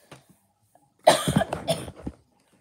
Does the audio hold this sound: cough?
yes